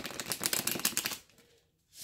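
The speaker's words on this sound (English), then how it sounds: "I'm going to shuffle them just a couple of more times" A deck of tarot cards is shuffled in quick, rapid riffling bursts for about a second, close by, then the sound stops and falls silent.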